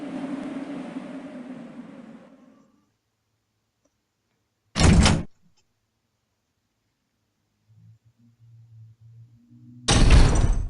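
Heavy doors opening in the PlayStation game Resident Evil 3, two sharp, loud bursts several seconds apart after a stretch of fading ambience, with a low hum creeping in before the second.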